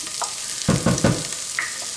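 Cashew nut cream cheese gets stirred into a sizzling sauce in a frying pan, with a few quick close scraping strokes over a soft steady frying hiss.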